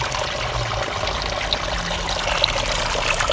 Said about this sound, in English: I came to film this waterfall.